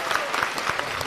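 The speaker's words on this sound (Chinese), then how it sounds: "掌声响起来" Audience applause at a Deyunshe crosstalk comedy show, a short steady burst of clapping from a live crowd, close and fairly loud throughout.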